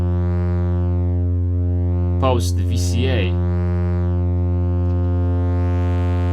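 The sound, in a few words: synthesizer tone through filter and distortion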